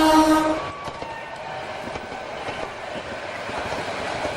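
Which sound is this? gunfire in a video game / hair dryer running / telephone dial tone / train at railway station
train at railway station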